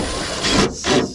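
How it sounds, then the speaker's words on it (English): Two short scraping, rubbing bursts of a metal bolt being fitted into holes in concrete form panels, close by and moderately loud against a steady background hiss, with no talk. "I'm gonna put this bolt in, fit it,"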